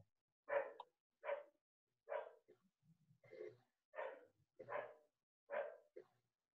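A dog barks about eight times in a fairly regular rhythm, clear and moderately close against a quiet background.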